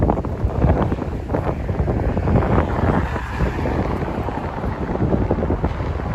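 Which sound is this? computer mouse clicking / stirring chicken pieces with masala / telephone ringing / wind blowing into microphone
wind blowing into microphone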